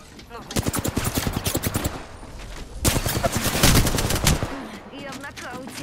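Rapid automatic gunfire in the video game Apex Legends crackles in loud, close bursts, with two long volleys and short pauses between them.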